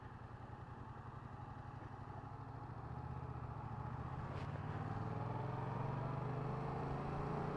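A motorcycle engine rumbles at low speed with a steady, throbbing pulse, the revs gradually rising and growing a little louder over several seconds, heard fairly faintly.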